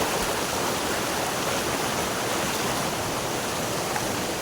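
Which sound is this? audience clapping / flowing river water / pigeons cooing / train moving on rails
flowing river water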